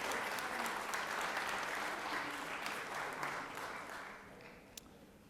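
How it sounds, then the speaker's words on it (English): Steady applause from members in the Georgia Senate chamber, a broad even wash of many hands clapping that holds at a moderate distance and slowly tapers off. "Give him a round of applause."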